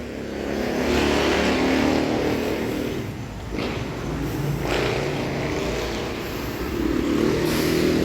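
A four-year-old car's engine revs loudly in a few surging bursts, rising and falling close to the microphone with no talking.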